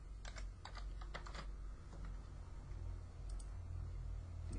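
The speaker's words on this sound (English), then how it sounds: "Got to type the order pair." Keys tapped on a computer keyboard in quick, light clicks, a short cluster of keystrokes then a few scattered taps, faint against a steady low hum.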